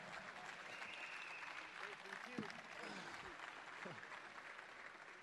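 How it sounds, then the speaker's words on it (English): Applause from a Fight Night Hamburg Q&A audience carries on in a steady, dense wash across the whole stretch, with faint voices and calls mixed into the crowd noise. "Keep the round of applause going"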